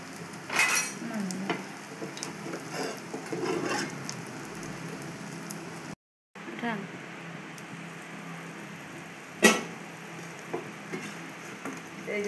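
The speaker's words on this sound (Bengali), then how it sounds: "এর পিঠ উপর 2 পিঠ ভালো করে ভেজে" Lentil fritters (dal bora) frying in oil in a village kitchen, with a steady hiss and occasional utensil knocks while someone talks over the sizzle; brief dropout midway.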